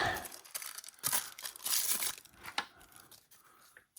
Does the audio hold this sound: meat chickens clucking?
no